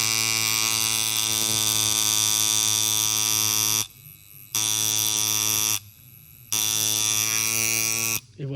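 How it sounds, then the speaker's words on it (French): A coil tattoo machine, freshly tuned and set to 7.2 volts, buzzes loudly with a steady electric drone, cutting out briefly twice and once more near the end before resuming. "Et voilà, la machine elle est réglée, elle est prête à piquer"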